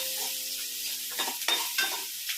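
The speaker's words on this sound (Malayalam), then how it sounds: "ഒന്ന് ബ്രൗൺ ആകുന്നിടം വരെ ഒന്ന് മൂപ്പിക്കണം" Ginger and garlic sauté in oil over a low flame, a gentle sizzle running under three or four short scraping stirs of a spoon against the pan, all close by.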